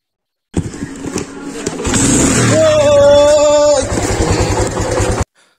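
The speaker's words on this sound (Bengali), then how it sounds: "তো বাইক নিয়ে রওনা হয়ে পড়লাম বাস স্ট্যান্ডের উদ্দেশ্যে।" A motorbike starts up and pulls away on a ride to the bus stand in hot Rajshahi, its engine rising from idle into a loud, close, revving drone with a rhythmic exhaust putter, then cutting off abruptly.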